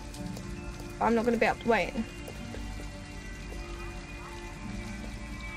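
Steady rain falls throughout a scene from the game Detroit: Become Human, a constant hiss beneath brief speech near the start.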